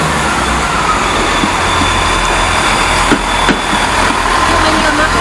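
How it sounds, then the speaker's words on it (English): A diesel train engine at Exeter St Davids station gives a loud, steady low throb and vibration, with faint clanks over the drone. "it's the vibration of the diesel engine."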